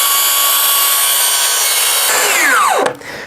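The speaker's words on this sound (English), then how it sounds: "So we'll buzz that off with a saw and then we'll be able to fit this perfectly." A track saw cuts through a shower wall panel with a loud, continuous high-pitched whine, then spins down with a falling pitch as the cut ends.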